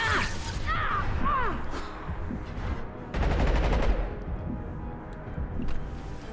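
Automatic gunfire in Mass Effect 2, a burst of rapid shots near the middle standing out over game ambience and effects, with a voice speaking briefly early on.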